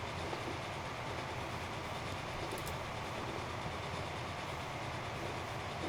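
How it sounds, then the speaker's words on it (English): A steam train runs along the track in the video game Transport Fever, heading for Aspatria at about 60 miles an hour. It makes a constant, fairly quiet rolling rumble with a faint rhythmic clatter and nobody talking. "There's nothing like the sound of a steam train"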